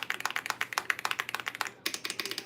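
Keys clack fast and steadily on an Aula F99 Pro mechanical keyboard, recorded close up with crisp, even strokes. The typing stops for a moment and then starts again.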